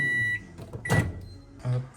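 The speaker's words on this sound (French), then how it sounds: "tu vas te mettre au micro-ondes 30 secondes" A microwave oven heats a protein mug cake, giving a low, steady electrical hum broken by a soft clunk and a short tonal beep near the end.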